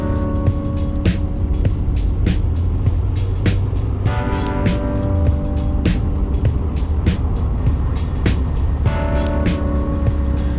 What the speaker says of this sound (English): a convoy of open MGs driving through the countryside together